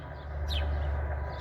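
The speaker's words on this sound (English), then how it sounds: "And I'm outdoors, that's why you're hearing all the birds." Birds chirp outdoors near Moscow, Russia, with one clear call standing out briefly over a steady low hum and a constant background wash.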